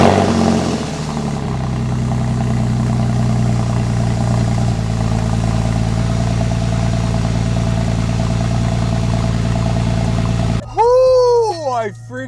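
A 2001 Porsche 911 Carrera 4 (996) engine cranks and catches, then settles into a loud, steady idle with a deep hum that holds for about ten seconds before a few sharp revs at the end.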